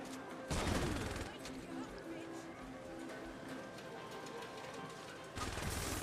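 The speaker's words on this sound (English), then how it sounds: "are the gunshots too loud or anything?" Gunfire in the Saints Row 2 video game, a loud burst of shots at the start and another near the end, with game noise running steadily between them.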